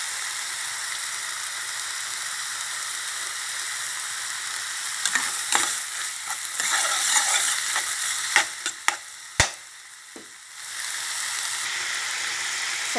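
Minced pork and dried chilies stir-fry in a pan with no oil, a constant close sizzle broken midway by scraping stirs and a few sharp clacks of the spatula before the frying settles back to a steady hiss.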